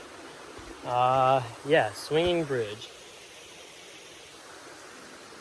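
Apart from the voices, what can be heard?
river flowing at a river crossing on a hiking trail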